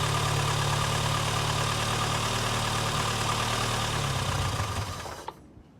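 An Austin Maestro engine running after a carburettor fuel mixture screw adjustment: a steady, loud, rough drone that holds evenly and then cuts off abruptly near the end.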